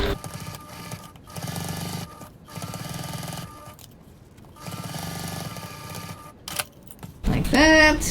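A sewing machine runs in several steady bursts of stitching along a 1/4 inch (6mm) seam with a 2.4 stitch length while sewing a travel sling bag, the motor hum pausing between runs, with a brief voice near the end.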